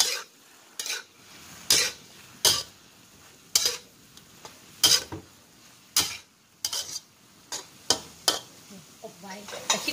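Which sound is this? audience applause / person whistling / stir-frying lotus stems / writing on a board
stir-frying lotus stems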